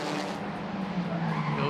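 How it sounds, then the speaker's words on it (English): Race car tires locking and skidding under hard braking during a BATCC touring car race at the Biķernieku circuit, a loud continuous screech over engine roar, close by. "under braking, Kozlovska blocks her tires, but can do nothing"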